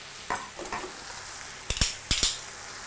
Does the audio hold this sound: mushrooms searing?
yes